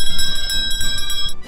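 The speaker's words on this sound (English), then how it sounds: "Let's ring the bell." A small bell rung rapidly on a cigar review show: about eight quick, loud strikes close up, each leaving bright sustained ringing that overlaps the next.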